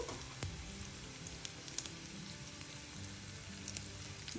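Chana dal, urad dal and mustard seeds frying in oil as the base for garlic rice, a faint, steady sizzle dotted with small scattered pops and crackles.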